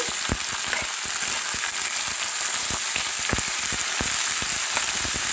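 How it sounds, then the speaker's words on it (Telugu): Chopped green beans fry in a pan for a coconut beans stir fry, a constant hissing sizzle broken by regular sharp clacks of a spoon stirring against the pan, close and without talk. "దీంట్లో బీన్స్ వేసాక ఒకసారి అంతా కలపండి"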